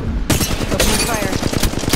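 Rapid automatic gunfire in the Apex Legends Mobile video game, loud close bursts of shots rattling repeatedly over about two seconds, with dense impacts and action noise throughout.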